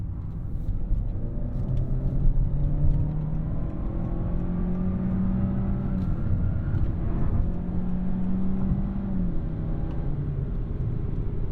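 A 2021 Honda Accord EX-L sedan's engine hums steadily and climbs in pitch as it accelerates onto a highway, a continuous close rumble with no voices.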